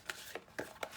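A deck of cards for the board game Escape the Dark Sector is shuffled up close, four quick soft riffling bursts in about a second, quiet and with no talking.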